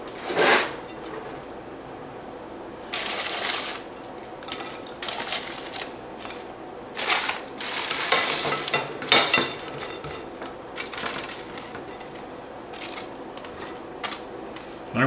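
Potatoes fry in a pan for cheesesteak sandwiches, a soft sizzle broken by bursts of scraping and stirring with a utensil against the pan, close up.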